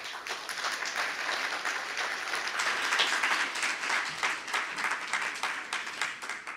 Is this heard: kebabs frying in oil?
no